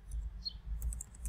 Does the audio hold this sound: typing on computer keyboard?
yes